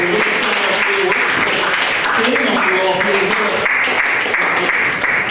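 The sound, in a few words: audience applause at after-prom hypnotist show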